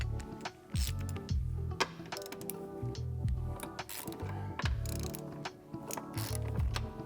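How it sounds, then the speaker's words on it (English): Bolts are loosened one after another on the drivetrain of a BMW N54 335xi with a ratchet, giving repeated close clicking bursts separated by brief pauses, with no voices. "We're just gonna go around them all and loosen, and then we'll go back through and take them all out."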